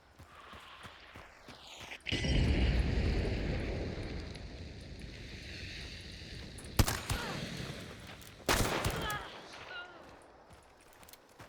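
Gunfire in the video game Hunt: Showdown 1896, a heavy booming blast followed by a long rumbling roar, then two more sharp loud shots with echoing tails, mid-distance.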